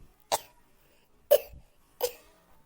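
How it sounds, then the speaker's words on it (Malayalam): A young boy coughs three times, short sharp bursts spaced about a second apart, close and loud in an otherwise quiet room. "എന്താ നീ നന്നായിട്ട് ചുമക്കുണ്ടല്ലോ"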